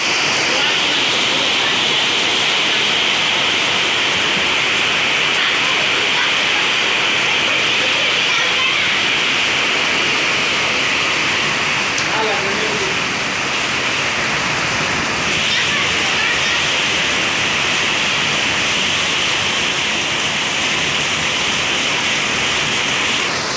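Rain falling, picked up through a video call, makes a steady broadband hiss throughout, with faint talk in the background.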